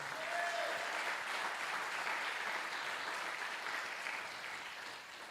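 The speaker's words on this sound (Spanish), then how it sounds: "denle un fuerte aplauso al Señor" A church congregation claps loudly and steadily for several seconds, a dense continuous wash of hands that tapers slightly toward the end, heard from within the room.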